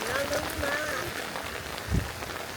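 Rain falls steadily in a rural Bangladeshi home, making a soft, even patter, with a brief thump near the end and a faint voice in the background.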